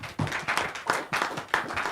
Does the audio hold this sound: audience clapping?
yes